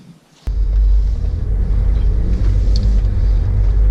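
A car drives along a road. After a brief quiet start, a loud, steady engine and tyre rumble comes in suddenly and holds at close range.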